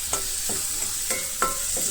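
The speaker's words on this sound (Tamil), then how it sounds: "இந்த தக்காளி பார்த்தீங்கன்னா நல்லா மசிஞ்சு வர அளவுக்கு வதக்கிக்கணும்" Chopped tomatoes sautéing in a pan for chicken masala, a constant hiss of frying broken by several close spatula scrapes and stirs at uneven intervals.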